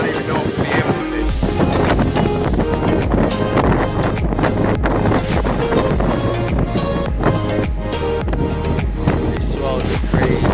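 Hurricane-force wind roaring over the mic on a fishing boat at the Skyway, loud and constant buffeting with a deep low rumble of rough water and swells throughout.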